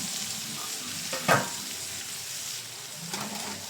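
Tomatoes sauté and sizzle in a pan, a steady soft frying hiss with a brief stirring clatter, heard close and alone without talk.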